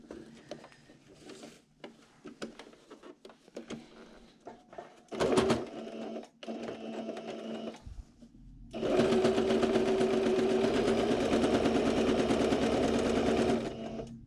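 A sewing machine runs stitching across the top edge of a homemade fabric face mask that has a nose piece, starting in short bursts with pauses, then running steadily and loudly for several seconds, close up with no talking.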